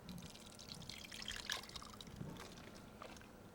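Liquid pouring and dripping onto fresh blueberries in a bowl as white wine vinegar is added for an infused vinegar with lemon zest and basil, a light, close trickle with small splashes, no talking.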